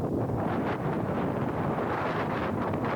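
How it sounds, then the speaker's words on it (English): Stiff desert wind at about 25 miles per hour gusts through an Arizona desert wash, buffeting the microphone in a loud, constant roaring rush with surging swells and no voices. "the wind is just gusting through this desert wash"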